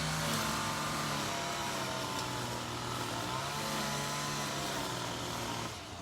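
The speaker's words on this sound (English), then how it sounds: "hate when they decide to mow their lawn." A neighbor's lawn mower engine drones continuously, loud and steady with a rough mechanical buzz, easing off slightly at the very end.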